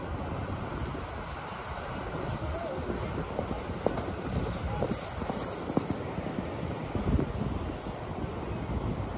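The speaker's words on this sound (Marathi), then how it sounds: "हे तर काय हॉर्स रायडिंगवालाच आहे, त्यांनी पण घोडा ताणला होता, पक्का ताणला होता." A horse ridden along a road in coastal Konkan, hooves clip-clopping in a steady walking rhythm under wind noise, while people talk over it throughout.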